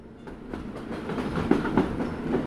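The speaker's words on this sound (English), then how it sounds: "background noise like crowds and trains" A train rolls past with a steady rumble and rhythmic clickety-clack of wheels over rail joints, faint and in the background, with a few sharper clunks toward the end.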